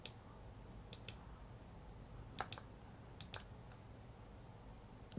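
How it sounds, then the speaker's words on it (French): Quiet mouse clicks during freehand drawing in LibreOffice Draw on a computer, a handful of sharp separate clicks spread out in time, including a quick close pair like a double click, over faint room hiss. "je termine par un double clic"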